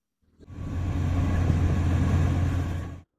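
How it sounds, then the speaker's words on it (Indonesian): A motor grader, a piece of heavy construction equipment, idles with a steady low engine rumble that rises in and holds loud and constant for about two and a half seconds before cutting off. "Motor grader adalah alat berat yang bekerja dengan cara bergerak maju dan mundur secara berulang kali"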